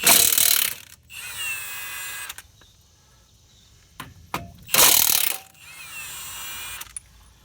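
Milwaukee impact wrench hammering on truck lug nuts, in two loud rattling bursts of about a second and a half each, separated by quieter gaps with a few clicks and clanks of handling.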